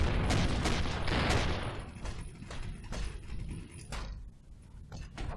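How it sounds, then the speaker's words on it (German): Dense spaceship gunfire and explosions from the space game Avorion, a continuous loud barrage of overlapping shots and bursts with no voices. "Von ihm kommen noch Schüsse?"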